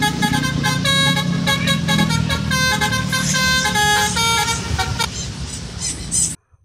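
A Lorena bus blares a loud, tuneful multi-note 'tolelet' horn: a rapid melody of bright tones with a low rumble beneath, fading into engine noise before stopping abruptly.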